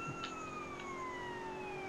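A police car siren in the video game GTA San Andreas wails steadily in a smooth, slowly falling tone over a constant background hum, with no talking.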